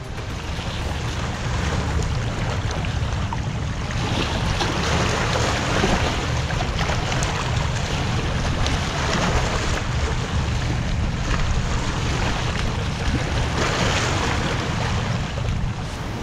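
Ocean surf roars in a steady, continuous wash, with heavy wind rumble against the microphone throughout.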